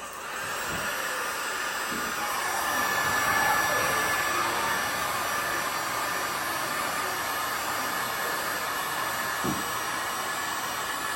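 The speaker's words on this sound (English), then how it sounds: "all we've got is a heat gun" Continuous loud blowing roar of a heat gun used in kitchen refurbishing, a steady airy hiss with slight swelling, running the whole time without pause.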